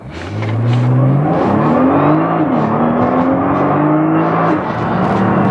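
A Nissan GT-R R35 launches hard in a 0-100 sprint, its engine note climbing loudly through rising revs with a brief dip at a gear change before pulling on, close and dominant with no talk.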